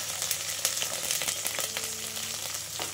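Onions dropped into hot oil right after green chillies, sizzling steadily and close by, with faint spitting crackles and a light clink or two of a utensil.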